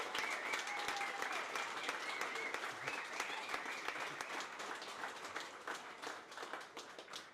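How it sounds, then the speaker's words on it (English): Faint, distant audience applause at a beach race ceremony in Virginia Beach, a dense patter of many hands that thins out and fades toward the end. "So another round of applause for the organising committee"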